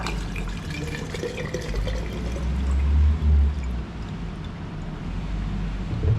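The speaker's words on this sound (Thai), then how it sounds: "แล้วก็เทลงไปเลย" Tawandaeng liquor is poured into a caramel drink, producing a continuous low gurgling stream of liquid filling a container, with a couple of fuller glugs partway through, heard close and without talk.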